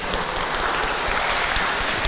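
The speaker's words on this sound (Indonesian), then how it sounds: "boleh berikan tepuk tangan" A church gathering in Indonesia applauds the moderator, a woman pastor, with soft, steady clapping that sounds like a small crowd heard from a distance. There is no speech over it.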